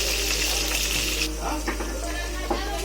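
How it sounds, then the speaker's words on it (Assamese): Onions with green chillies fry in a pan for a young jackfruit curry, giving a continuous close hiss and sizzle with a few faint stirring knocks. "পিঁয়াজখিনি ৰঙচুৱা নপৰালৈকে অলপ সময় ভাজি থাকিব।"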